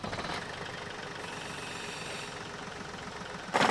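A car engine idles at a steady mid-pitched rumble during an AC service and gas filling, running evenly for a few seconds before a sharp louder burst near the end.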